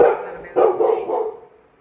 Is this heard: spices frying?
no